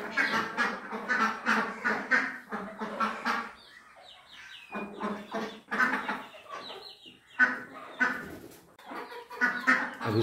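Ducks quack and chickens cluck in a village yard in Uttar Pradesh, in repeated close bursts with short pauses between them, loud and clear with no talk.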